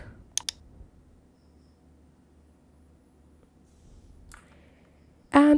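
A computer mouse clicks during setup of an email account, with a quick pair of sharp clicks near the start, then a faint later tap in a quiet room.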